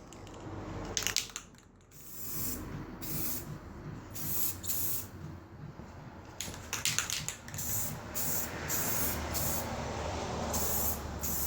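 Several short bursts of aerosol spray hiss onto a car headlight, some brief and some longer, fairly close, with a steady background noise between them and no talking.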